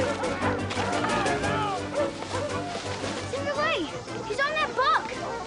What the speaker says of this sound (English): Listen to that mess. That dog of yours has struck a rabbit.